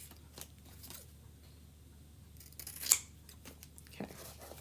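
Scissors cutting shapes out of paper at a craft table, a few soft snips with one sharper cut near the middle, quiet and close with faint background hum.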